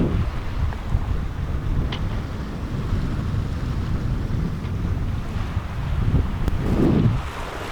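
A sailboat running wing on wing at sunset off Colombia, with steady wind buffeting the microphone and a constant rush of waves along the hull. There is a brief swell of water splash near the end and no voices.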